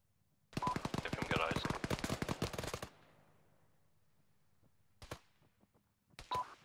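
Rapid automatic gunfire in the Arma 3 military simulation game: a dense, loud burst lasting a couple of seconds, followed after a pause by two short, sharp single bursts.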